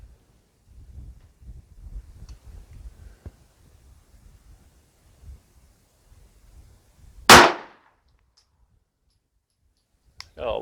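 One sharp, loud shot from a CZ75 9mm Luger pistol firing a 90-grain bullet at a target, with a smaller click and a second burst near the end, following quiet handling noises and talk.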